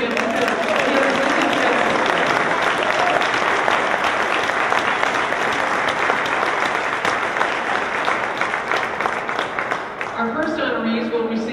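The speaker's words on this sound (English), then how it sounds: "Let's give the governor a hand." Sustained applause from an audience at a Minnesota Girls and Women in Sports Day event, greeting the governor; dense, steady clapping that holds loud for about ten seconds before thinning near the end.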